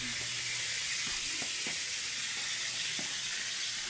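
Tambakol fish frying in a pan at home, giving a steady, loud sizzling hiss throughout with a few faint clinks and stirs, no voices.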